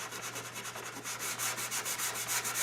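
Sandpaper worked by hand over shellac-coated maple, a steady run of close, rhythmic back-and-forth scratchy strokes, roughly even and fairly loud, over a low constant hum.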